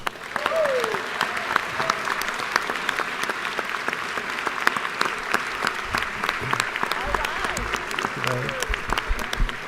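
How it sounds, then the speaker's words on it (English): Sustained round of applause in a state legislative chamber session, steady dense clapping from many hands filling the room at moderate loudness throughout. "Would you please give them a round of applause?"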